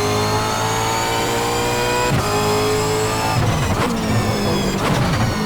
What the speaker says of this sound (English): I can't hear myself talk with this loud Super V8, which sounds super if anything